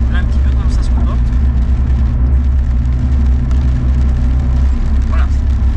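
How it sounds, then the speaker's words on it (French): Steady road rumble and tyre hiss from inside a moving car in the rain, with a constant low engine drone and a wet, washing texture throughout. "Il y a la pluie, le bruit de la route, le bruit de la voiture."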